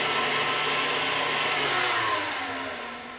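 An electric hand mixer beats vanilla into cookie dough for Christmas cut-out cookies. It whirs steadily and close up for about three seconds, then its pitch and loudness drop toward the end. No one speaks.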